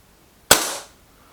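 A single sharp report from a BSA Defiant air rifle, crisp and close with a brief decaying tail, alone with no talk.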